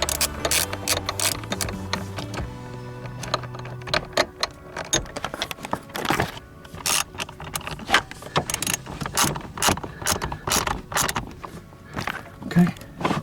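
A hand ratchet tightens a battery terminal on a Porsche Cayenne during a battery replacement, giving runs of rapid metallic clicks in uneven bursts with short pauses, close up, with some tool handling and clinking between strokes.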